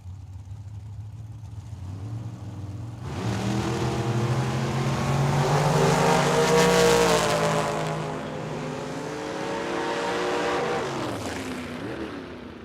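A Chevrolet Camaro drag car at Tucson Dragway roars past loud and near, engine note climbing and sweeping through the run, then holding a second rising wail before fading.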